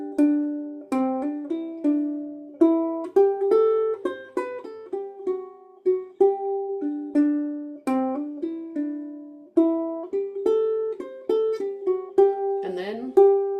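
A ukulele plays a lilting melody of short notes and chords, each decaying quickly, steady and close with a short strum at the end.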